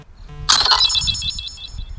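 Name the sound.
phone text message notification alert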